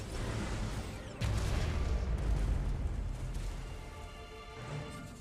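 Explosions from Jade booms in the mobile strategy game C&C Rivals: a sudden heavy blast around a second in, then a sustained loud rumbling roar of detonations that slowly fades, with another swell near the end.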